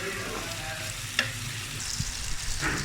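Potatoes fry in a pan for a Lahori breakfast, giving a steady close sizzle with a brief clack of a utensil and some stirring scrapes toward the end.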